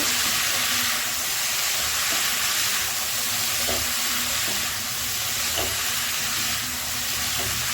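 Malabar spinach and spring onion cook in a hot pan with turmeric, a loud, steady hiss of steam and sizzling with occasional soft knocks of a spoon stirring.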